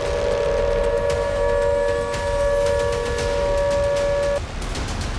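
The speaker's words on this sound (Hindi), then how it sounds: "नाटो देश पोलैंड में लगातार यूक्रेन की तरह सायरन बज रहे थे।" Air raid sirens sounding in Poland, holding a loud, steady sustained wail that continues unbroken for several seconds before cutting off abruptly near the end.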